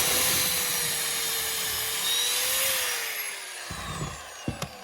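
A power drill boring pocket holes through a Kreg pocket hole jig into apitong hardwood for a mirror frame, a steady high whine running for several seconds that winds down, followed by a few short clunks and handling knocks.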